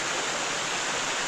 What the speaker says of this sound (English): There's the stream across.